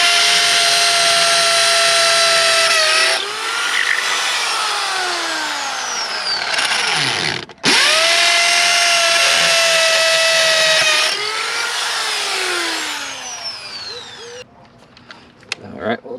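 A power drill with a masonry bit bores a hole for a screw while an outdoor faucet is replaced. The whine is loud and sustained and pitches down under load. It cuts out briefly midway, restarts, and winds down near the end.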